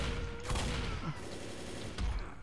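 Gunfire in the video game Left 4 Dead comes in a few quick volleys and bursts, moderately loud, with a hint of voices in the background.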